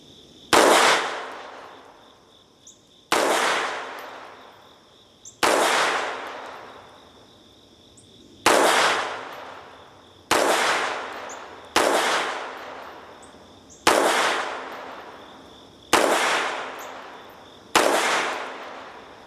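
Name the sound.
CZ 50 pistol firing .32 auto rounds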